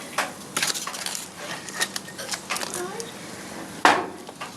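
A pork bone falls outside a pot of boiling water for wonton noodle soup, striking the surface with one sharp, close clatter near the end, after scattered soft kitchen knocks and rustles.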